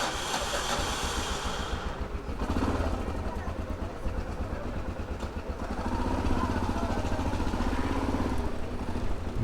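A Yamaha Ténéré 600 motorcycle engine runs at a steady low idle, close by, with a slight change in tone partway through.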